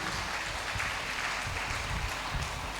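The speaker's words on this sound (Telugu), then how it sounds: "గట్టిగా చప్పట్లు కొడదామండి" Dense, continuous applause from a church congregation fills the whole stretch at a steady loud level, a wash of many hands clapping with no voices rising above it.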